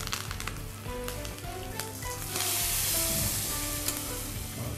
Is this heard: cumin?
yes